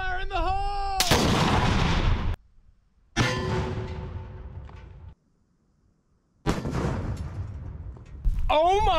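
A homemade bowling ball cannon fires outdoors with several loud, sharp booms, each followed by a rumbling decay and separated by brief near-silence. Voices shout before the first blast and after the last one.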